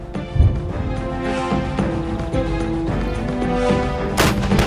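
152 mm artillery cannons firing during a live-fire exercise, a heavy boom near the start followed by a sustained rumbling roar and a sharp crack near the end, loud and outdoors.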